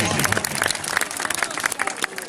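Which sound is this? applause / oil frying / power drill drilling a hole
applause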